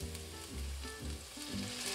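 Sofrito hitting a hot pan and sizzling steadily, a soft, continuous crackle at low volume with no voices.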